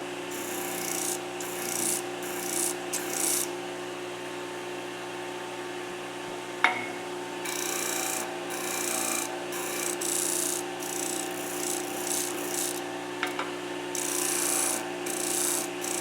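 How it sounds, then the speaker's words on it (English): A disc sander with 100-grit paper whirs steadily while wood is pressed against it in repeated rasping passes, with a couple of brief sharp ticks. "100 grit on the disc sander."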